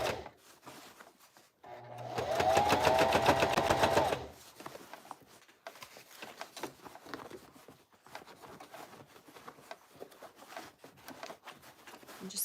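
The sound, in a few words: sewing machine sewing a bag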